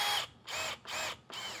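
A power drill drives screws into a craps table through pre-drilled holes, giving four close, high whirring bursts in quick succession with short gaps between them.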